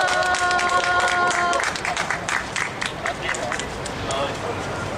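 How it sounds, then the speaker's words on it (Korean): Audience applause and clapping welcoming a lecturer at an outdoor street lecture on nuclear phase-out, a steady broad patter filling the whole clip, with tonal music or a chime early on and crowd babble underneath. "힘찬 박수로 모시겠습니다"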